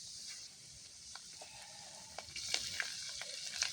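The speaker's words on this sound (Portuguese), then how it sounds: "agora vamos fritar o peixe" Floured fish seasoned with lemon and salt fries in oil over a campfire, a soft steady hiss dotted with sharp crackles and pops that grow busier toward the end.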